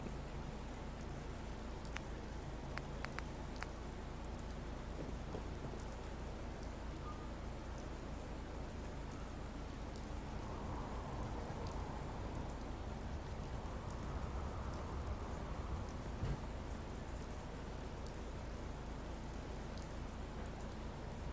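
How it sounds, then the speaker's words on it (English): Steady storm rain pours down in an even hiss throughout, with a slight swell of rushing wind midway and no voices. "Oh, that storm's just a blowing, isn't it?"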